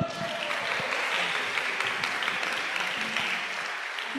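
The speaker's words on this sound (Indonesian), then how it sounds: "Tepuk tangan untuk semangati Haidar" Sustained applause from a crowd of students at a school fast-breaking gathering, a steady dense clatter of many hands clapping throughout with no break.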